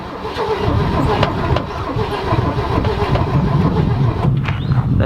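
An old Ford Mk1 Transit van engine, fed fuel down the carburettor throat, catches and runs, a loud, rough, close mechanical roar that holds steady with slight surges throughout.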